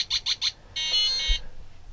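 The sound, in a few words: beeps from a LEGO-compatible programmable brick starting a program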